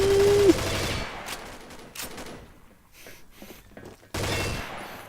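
A gun in a video game fires on its own in rapid bursts of gunfire. A loud volley opens the clip, scattered shots follow, and another strong burst comes near the end.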